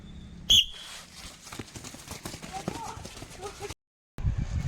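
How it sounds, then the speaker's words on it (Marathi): A coach's whistle at an athletics and fitness coaching centre signals runners to start: one short, sharp, loud blast near the beginning, then shuffling movement and background voices. "ज्यावेळेस मी शिट्टी देईल ओके त्यावेळेस रन करायचं"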